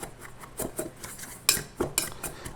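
A dry spice rub of garlic powder, onion powder, cayenne and brown sugar mixed in a bowl for backyard spare ribs, with scattered light clinks and scrapes of a utensil, a few sharper knocks standing out.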